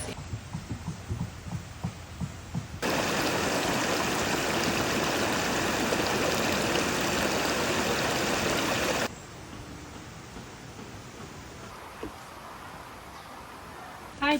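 Creek water flows steadily in a rural spring-fed stream, a dense rushing wash that swells loud for several seconds in the middle, then drops back to a softer, quieter trickle.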